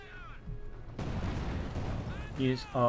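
A tank main gun fires in Company of Heroes 2, with a Panther and Volksgrenadiers in the fight. One heavy broadband blast hits near the one-second mark and rolls into a sustained rumble, while a voice talks before and after.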